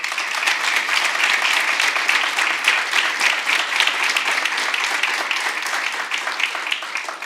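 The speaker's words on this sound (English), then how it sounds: "Let's give another big round of applause for our wonderful Board of Trustees." Audience at a school board meeting applauding, a steady wash of many hands clapping at moderate distance that holds for several seconds and fades slightly at the end.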